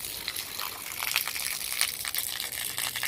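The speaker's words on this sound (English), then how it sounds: "bend this pipe a little bit so that the water falls right into the rest of the water, because it makes a noise" Water pouring from a bent pipe splashes steadily into a pool in a tiger enclosure, a close, continuous bright gush with no voices.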